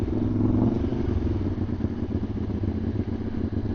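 A Ducati 1199 Panigale with an Arrow exhaust runs steadily close by, a throaty mid-pitched engine drone with a faint clattering edge that holds at an even, loud level throughout, no voices over it.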